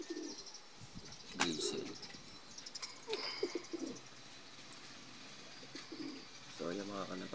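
Pigeons coo with soft repeated calls and a few chirps in a loft, heard under people speaking, fairly close with background ambience.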